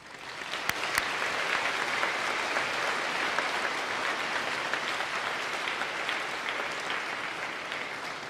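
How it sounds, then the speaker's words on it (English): Sustained applause from an audience at a Veterans Day ceremony, dense steady clapping that starts with a few sharp claps and holds evenly for the whole stretch without any speech. "Ladies and gentlemen, this deserves another round of applause."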